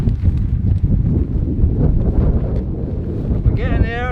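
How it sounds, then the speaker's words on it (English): Strong wind buffets the microphone on an exposed hilltop summit on Harris in the Hebrides, a steady loud rumbling roar throughout with a brief whistling flutter near the end. "Keep it breezy up here."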